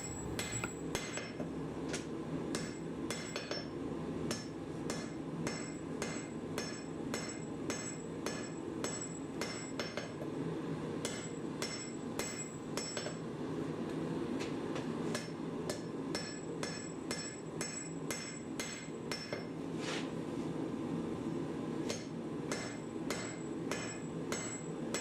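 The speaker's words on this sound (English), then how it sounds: "you'll get a nice clean forge weld between the Damascus and the mild steel" Steady hammer blows forge welding Damascus to mild steel for a dagger build, a long run of sharp ringing metallic strikes at an even rhythm over constant forge roar, close and loud throughout.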